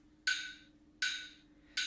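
Metronome clicking at quarter equals 80, three sharp, evenly spaced clicks about 0.75 seconds apart, each with a short decaying tail, moderately loud over a quiet low hum.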